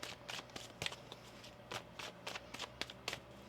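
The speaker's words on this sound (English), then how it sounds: "One more shuffle." A deck of tarot cards is shuffled by hand during a reading, giving a run of quick riffling bursts and soft flutters at close range, with no one talking.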